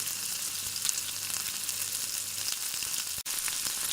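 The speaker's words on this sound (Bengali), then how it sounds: "এক এক করে আমি সবগুলো পিঠা তেলের মধ্যে ছেড়ে দিচ্ছি" Pakon pitha, a traditional Barisal rice cake, dropped one by one into hot oil and frying with a dense, steady close-up sizzle and no talk.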